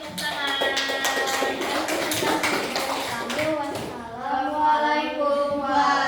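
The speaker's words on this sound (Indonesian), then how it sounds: "Terima kasih, tepuk tangan" A classroom group claps for a fellow group after their short drama, a burst of quick, dense hand claps over chatter that fades after a few seconds as voices take over.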